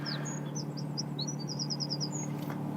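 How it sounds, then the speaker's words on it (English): Birds sing and chirp in quick high trills over a steady low engine-like hum, with short repeated notes and a few longer whistles. "listening to the sound of the birds"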